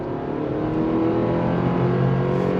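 A 2023 Chevrolet Colorado with a 2.7 liter turbo four-cylinder pulls uphill on twisty roads under throttle, its engine droning steadily as it accelerates, heard from inside the cabin.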